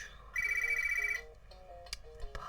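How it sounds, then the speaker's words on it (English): A phone rings in a quiet art studio with a bright electronic ringtone, a melodic pattern of tones repeating for about a second and then fading into softer, broken fragments, fairly close and with no talk over it. "Apologies, the phone's ringing."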